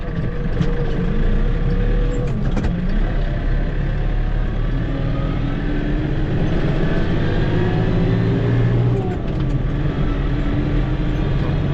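Tractor pulling a trailer of straw bales in top gear on a farm, a steady loud engine drone with a constant low rumble and rattling, running alone without talk.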